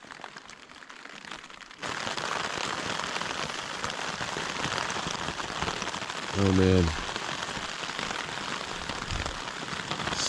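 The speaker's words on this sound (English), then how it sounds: "It's been pouring all night from when we went to bed." Rain pouring on a campsite during a bikepacking trip in Algonquin Park, a dense steady hiss that swells suddenly after a quiet start and keeps going, with someone briefly speaking in between.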